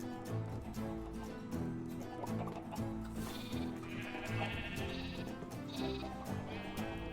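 Sheep in the video game Township Tales bleat repeatedly over a soft background of game music, their calls rising clearly above the tune several times.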